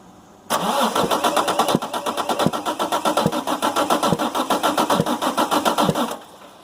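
A 6.7 Cummins diesel engine with an engine problem cranks over and over in a fast, rhythmic chug for several seconds without catching, then falls quiet.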